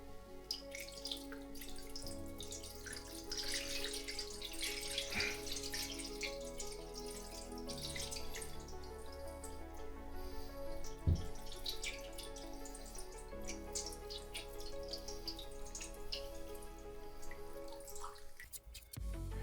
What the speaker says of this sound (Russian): Выливаю несколько литров воды.